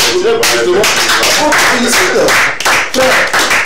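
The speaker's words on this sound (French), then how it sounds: "Et il faut qu'on t'applaudisse sur ce plateau." A studio audience on a TV set claps for a returning guest, a loud, dense applause with rhythmic clapping, steady throughout with voices mixed in.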